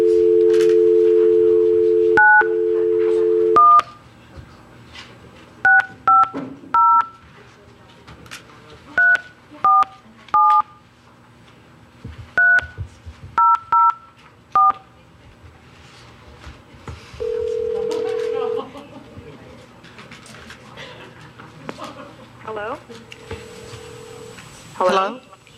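A telephone call is placed: a steady dial tone, then a string of short paired touch-tone dialing beeps in bursts, then a long ringback tone with quiet room noise between.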